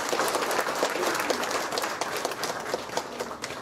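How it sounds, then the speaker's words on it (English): A crowd applauds steadily throughout, dense clapping sustained without pause at a live youth festival event, greeting the arrival of the chief guest. "Shall we welcome our chief guest with a round of applause"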